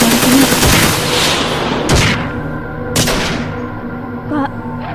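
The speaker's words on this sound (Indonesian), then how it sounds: "Suara tembakan dan penghancuran terdengar di lantai bawah." Several sharp gunshots crack out at irregular intervals, loud and close, from the floor below in a staged drama, against a busy, noisy background.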